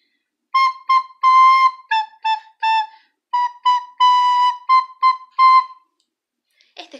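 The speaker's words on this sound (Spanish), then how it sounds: "Y ahora lo voy a hacer con la flauta" A children's song melody is played on a flute: a dozen clear, breathy tones in short phrases, some held longer, played solo and close up, followed by a brief faint rustle.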